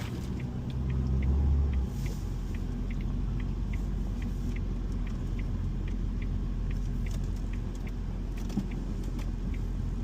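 Ford Fiesta car driving smoothly, a steady low engine and road rumble from inside the cabin, with a faint ticking rattle throughout, no talk.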